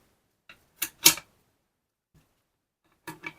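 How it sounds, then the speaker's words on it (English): Metal parts of a Mossberg 500 shotgun click and slide as the bolt assembly is pulled out during disassembly: a few sharp close clicks in quick pairs, with a pause before a final clack. "bolt assembly slides out from underneath where the barrel came out from"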